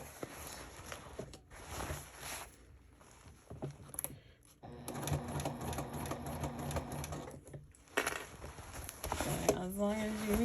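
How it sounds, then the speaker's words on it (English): Sewing machine stitching a side seam and pivoting along the top of a side panel, with bursts of rapid mechanical chatter and pauses between them, alongside a person speaking. "Sew to where that line is. Pivot again to sew along the top of your side panels."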